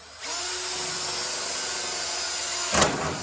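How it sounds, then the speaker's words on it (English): A power drill whirs steadily and loudly for a few seconds as it bores a hole in an electric fan shroud, ending with a brief harsher surge. "I'm just gonna drill a hole in each spot."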